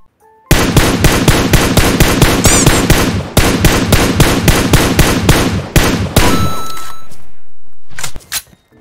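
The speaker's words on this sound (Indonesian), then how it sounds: "Nggak tahu siapa yang nembakin gue pakai PSS." Rapid automatic gunfire from a PSS gun in PUBG Mobile, a loud, tightly spaced burst of shots lasting several seconds with a brief pause in the middle, then a sustained ringing tone and a final short pair of shots.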